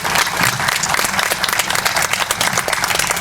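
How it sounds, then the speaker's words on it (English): A crowd at a 9/11 memorial service in Carteret gives a round of applause for an assemblywoman, loud, dense, continuous clapping with a crackling texture from start to finish. "Give her a round of applause"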